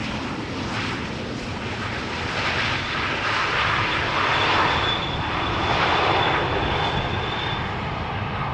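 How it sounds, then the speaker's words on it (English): A Transavia Boeing 737 arriving from Valencia at Schiphol Airport, its jet engines a loud, continuous roar that swells gently in the middle and holds steady to the end, with no voices. "this Transavia 737 that has just landed coming in from Valencia"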